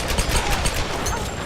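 Rapid gunfire in the video game Tomb Raider, a dense burst of crackling automatic shots, loud and continuous for a moment with no talking over it.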